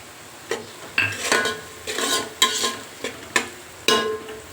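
Onion and green chilli fry in a pan while a spoon stirs them, a soft sizzle broken by several scraping, clinking strokes of metal against the pan, close and without talk.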